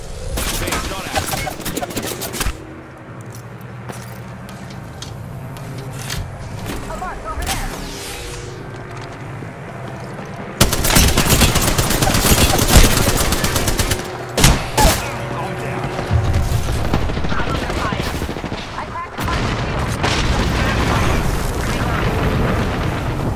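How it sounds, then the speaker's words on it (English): Gunfire in a shooter video game strikes the player, with clustered bursts of shots and impacts that swell loud and dense midway, then ease back into steadier, lighter firing over a low rumbling game background. "Getting shot at. Being shot at."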